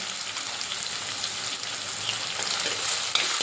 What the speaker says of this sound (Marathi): बघू शकता कांदा व्यवस्थित फ्राय झालेला आहे